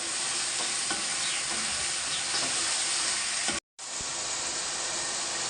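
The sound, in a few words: chicken frying with tomato and onion for pulao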